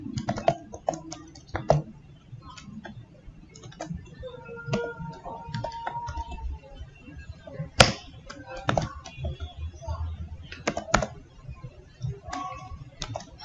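Rapid, irregular clicking of computer keys during a web-programming task, with bursts of keystrokes and a few sharper taps, close and fairly quiet over faint background murmur.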